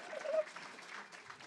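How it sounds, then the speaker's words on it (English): An audience at a drag-up comedy show claps in a short burst of applause that swells briefly and then fades, with a voice carrying over the clapping. "Give it up for Labubu"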